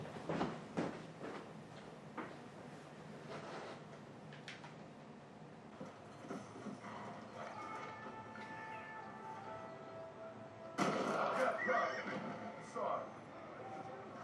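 A horse in the Red Dead Redemption video game whinnies and snorts among scattered hoof clops, with a louder burst of neighing near the end, all quiet and under occasional low game ambience.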